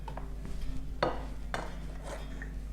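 Vegetable spring roll filling with coriander being mixed in a bowl, with a few sharp clinks of utensil on the bowl and soft stirring between them, close and fairly quiet.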